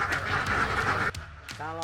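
Ducks quacking on a duck farm in East Lampung, a dense chorus of quacks close by, with people talking over it and a short break before a voice continues.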